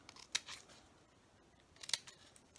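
Scissors cut a V notch into cereal box cardboard, giving two crisp snips about a second and a half apart, close and clear in an otherwise quiet room.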